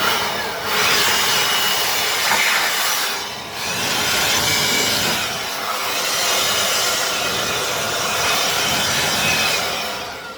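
An air blower hisses loudly while clearing debris from the engine bay of a 1990 Suburban with a 5.3 LS swap, in several sustained blasts with short dips between them and no talking.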